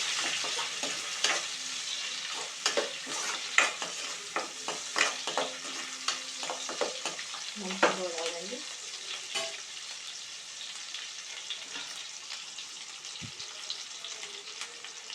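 Sliced onions and curry leaves sizzle steadily in hot oil for bitter gourd pulusu, a constant bright frying hiss broken by sharp scraping stirs and clinks of a utensil against the pan.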